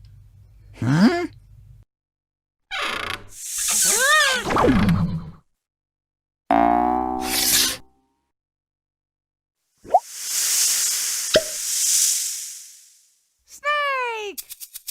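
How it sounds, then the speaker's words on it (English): Breathy snake hisses for a baby sensory setting come in two loud, sustained bursts, mixed with squeaky, bouncy cartoon-like sounds and a few short squeals in between. "Snake!"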